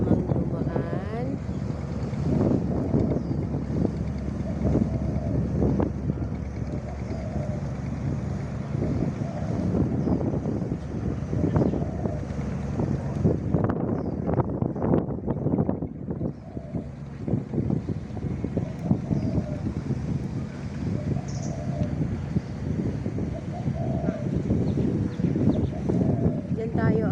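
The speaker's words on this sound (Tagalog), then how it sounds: "May bangka na namang dumaan." A boat passes on open water in Hong Kong, its engine a steady low rumble mixed with wind buffeting the microphone and splashing waves, under intermittent talking.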